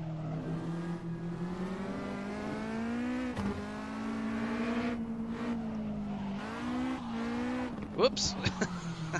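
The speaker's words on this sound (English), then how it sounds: "See if we can get a good power slide going here in one of these last corners" A race car engine in a sim-racing game holds a steady droning tone through a power slide in a late corner, then revs and shifts near the end, with brief squeals and someone talking over it.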